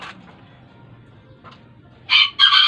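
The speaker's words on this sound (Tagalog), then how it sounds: "Ang mga manok natin, saka yung siga nating manok." A rooster crows in two loud, sharp bursts near the end, following a quieter stretch with faint bird calls.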